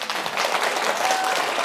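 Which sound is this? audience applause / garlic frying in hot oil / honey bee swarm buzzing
audience applause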